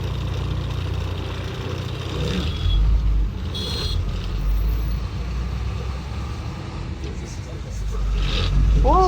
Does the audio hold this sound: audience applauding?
no